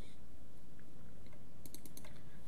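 A computer keyboard key is pressed while modeling in Maya 2018, giving a short cluster of crisp, close plastic clicks over a faint steady background hiss.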